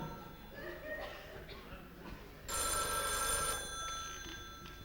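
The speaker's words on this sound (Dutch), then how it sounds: "Telefoon, telefoon, telefoon." A telephone bell rings in a bright, insistent burst over a murmuring crowd and background talk at a Dutch carnival session evening.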